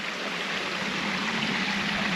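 Small waterfall along a North Yorkshire coastal walk, a steady rushing splash of water heard continuously at moderate distance.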